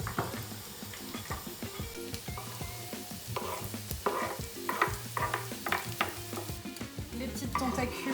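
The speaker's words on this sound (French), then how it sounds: "on laisse griller encore un petit peu l'ail" Chorizo, onions and garlic fry in a pan, a steady close sizzle with repeated stirring and scraping scattered throughout, and no talk.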